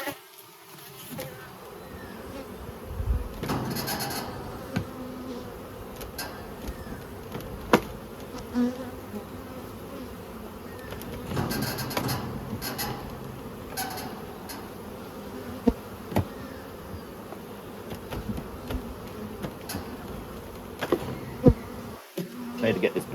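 Honeybees buzz in a dense, continuous drone while hives are moved in November at Mt. Coramba, with close knocks and thumps of handling equipment and occasional voices in the background.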